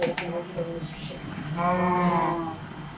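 Cows in the Minecraft video game moo in a farm pen, with one drawn-out low moo rising clearly in the second half after some quieter animal noises, moderately near.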